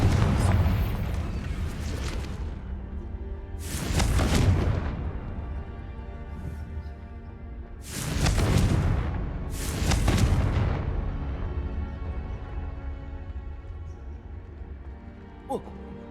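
Four broad booming explosions from the Confringo fire spell in Hogwarts Legacy, spaced several seconds apart over a low rumbling game ambience, each a loud full-band burst that decays slowly.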